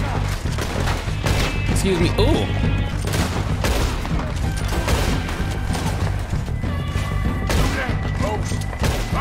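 Gunfire in the video game Red Dead Redemption 2, a dense run of sharp shots and crashes going off repeatedly under steady game music, with a player speaking briefly over it.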